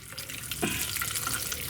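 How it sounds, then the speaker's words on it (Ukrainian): Pork fat (salo) sizzles in a frying pan, a steady broadband hiss and crackle running throughout at moderate loudness, with no talking. "Поки сало шкварчить"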